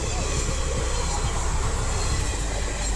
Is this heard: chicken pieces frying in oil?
no